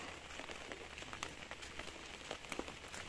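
Rain falls near a rice mill area, a steady soft patter with scattered close drops tapping a surface, moderately quiet and continuous with no one talking.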